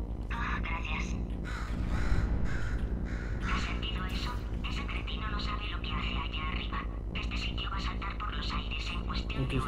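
Crow cawing in the Portal 2 video game, repeated harsh caws layered over game sound and a person speaking Spanish throughout.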